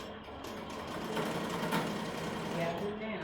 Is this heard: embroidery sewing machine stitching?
yes